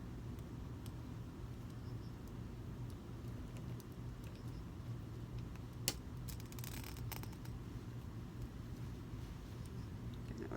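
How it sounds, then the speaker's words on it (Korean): A knife unpicks the small gusset stitches on a dress shirt during a tailoring alteration. Quiet, faint snips and thread tugs sit over a low steady background hum, with one sharper cut near the middle and no talk. "작은 갬불이는 이렇게 칼로 뜯읍시다."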